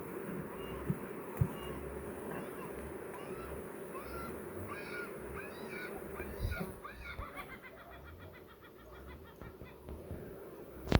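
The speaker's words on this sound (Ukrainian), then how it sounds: "якісь якісь чайки літають, кричать як малі діти" Seagulls fly over a beekeeping apiary, letting out repeated high, wailing cries over several seconds. The calls sound moderately distant and faint above a low outdoor background.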